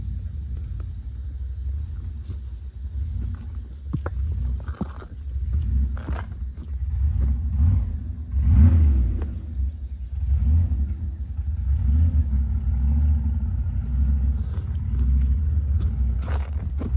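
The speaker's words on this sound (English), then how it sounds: "Mud on the tires. Oh, big burnout." An Ascent 18 RC crawler on Injora wheels spins its tires in mud in a burnout, giving a continuous low motor whine and rumble that rises and falls, with scraping and squelching, close by.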